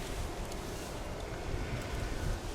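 Steady, heavy wind buffets the microphone outdoors while someone tries to start a fire with magnesium, a constant low rumbling roar with no pauses and no voices.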